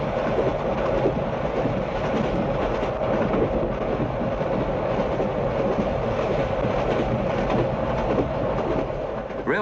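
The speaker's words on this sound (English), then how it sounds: "we're being pulled by the Flying Scotsman" Carriages pulled by the Flying Scotsman steam locomotive roll along the rails in 1967, a steady loud rumble with faint clickety-clack from the wheels, continuous and heard from inside or close to the train, with no voices.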